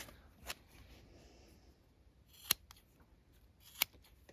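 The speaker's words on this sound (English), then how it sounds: "Let's try cutting some paracord here." Nextool Captain multitool scissors snipping paracord, giving three separate crisp cuts spaced about a second or more apart against a quiet background, close and fairly faint.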